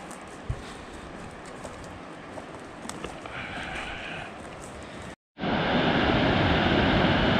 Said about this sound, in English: this time the sound you hear isn't the wind like it has been all day. That's the waterfall.